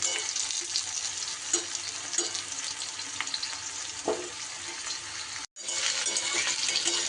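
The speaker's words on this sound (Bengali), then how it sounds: "সুন্দর করে ভেজে নিতে হবে, উল্টে পাল্টে।" Kakrol (spiny gourd) frying in a wok, a steady close sizzle with occasional scrapes and taps as the pieces are pressed and turned, broken by a brief gap near the end.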